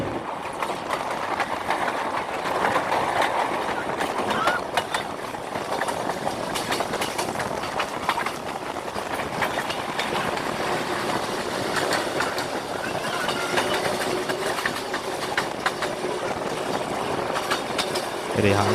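The Pakistan Railway Miyanwali Express 147 Up runs at night past residential areas of Lahore, giving a loud, continuous rumble with rhythmic wheel clatter throughout.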